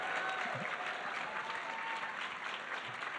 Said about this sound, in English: Would you give Sharon a big round of applause